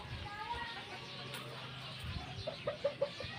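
Fighting roosters kept temporarily in a coop give a few soft clucks near the end, faint against a background of low murmuring and talk.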